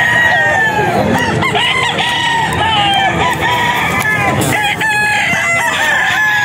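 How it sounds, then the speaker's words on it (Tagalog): Several young roosters (stags) crow loudly and repeatedly, overlapping with clucking chickens nearby, a busy yard full of fowl. "Mga manok niya."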